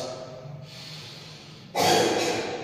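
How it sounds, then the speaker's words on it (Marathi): During a yoga breathing exercise, one deep, forceful breath rushes loudly and close after a quieter stretch of faint breathing, then slowly tapers off. "एक गहरा श्वास"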